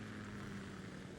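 Ka-60 Kasatka helicopter from the game Metal Gear Solid 2, a steady low rotor and engine drone holding at a constant faint level with no talk over it.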